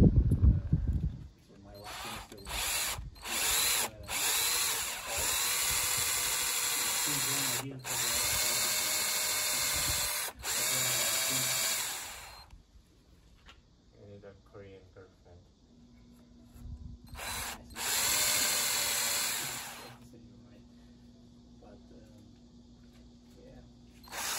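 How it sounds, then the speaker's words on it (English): A power drill whirs in several bursts, revving up and down as it bores screw holes for a headless electric guitar build, with short pauses between runs and a faint hum underneath. "So I'm gonna drill two holes and fix it in place."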